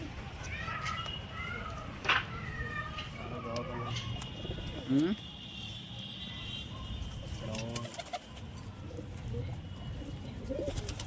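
Pigeons in a flock coo and flutter their wings as they take off and rise overhead, with a few sharp wingbeat bursts. Several people talk throughout over a steady background hum.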